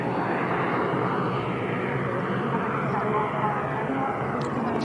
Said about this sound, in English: Just missed the BizJet taking off there.